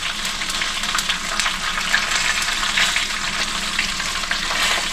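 Food frying in a pan before tomato sauce goes in, a steady loud crackling sizzle with dense hiss throughout and no voices.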